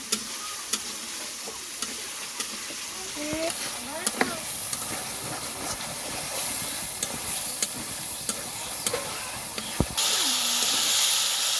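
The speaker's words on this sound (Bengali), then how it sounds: "টমেটোটা দিয়ে দিলাম দিয়ে একটু নাড়াচাড়া করে নিয়ে তারপর আলু দিয়ে দেবো" Tomatoes and potatoes stirred while frying in a pan, a steady hissing sizzle with a few sharp spoon taps against the pan and a louder burst of hiss near the end.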